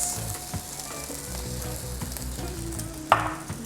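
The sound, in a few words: green onions sizzling in a frying pan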